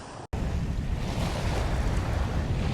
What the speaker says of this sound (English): Look at how close the waves are crashing over this